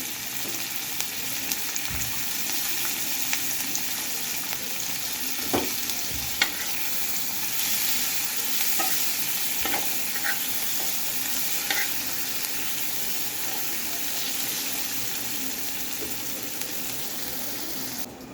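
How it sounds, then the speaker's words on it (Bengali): Onions and fish belly pieces fry in a hot pan, giving a steady sizzle with occasional stirring scrapes and clicks throughout, close up and with no talking. "দেখুন আমি এখানে কিছুটা পেঁয়াজ দিয়ে দিচ্ছি, এটাও ভেজে নিচ্ছি।"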